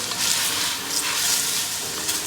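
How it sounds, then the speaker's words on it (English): Roughly chopped celery, carrots and parsnips sizzle and hiss in a pot for ribollita soup as they are stirred, a steady close frying sound with soft scraping swells. "I'm going to give this a stir."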